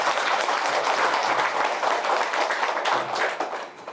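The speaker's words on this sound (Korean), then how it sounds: "큰 박수 부탁드립니다" Audience applause at a temple sisterhood ceremony, a lively burst of many hands clapping close by, steady for several seconds before thinning out at the end.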